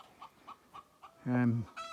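Hens clucking in short, evenly spaced notes, followed by a louder drawn-out squawk and another call, close by.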